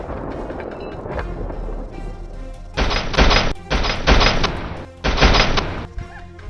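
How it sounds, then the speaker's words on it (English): Gunfire while hunting wild boars on a farm: three sustained bursts of rapid, loud shots, each close to a second long, separated by short gaps over a steady outdoor background. "The gunshots rang out once again."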